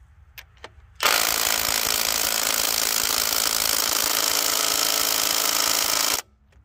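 A Mac cordless impact wrench in power mode 3 on a 5.0 battery hammers at a Subaru 22 mm crank pulley bolt torqued to 160 foot-pounds, a loud steady five-second buzzing rattle close up that starts and stops abruptly after two light clicks.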